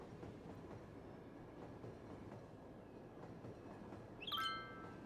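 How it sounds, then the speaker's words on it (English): A freight train passes through a town in the Cities: Skylines city-building game, a low steady rumble throughout with a brief brighter tonal chime near the end, no voices. "I guess the train has to go through"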